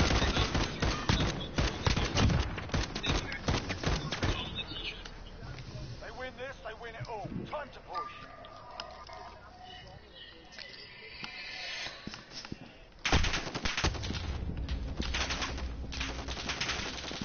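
Rapid gunfire in a PS4 shooter game, dense bursts of shots in the opening seconds, a quieter stretch with scattered reports, then another loud volley toward the end, with a voice talking over parts of it.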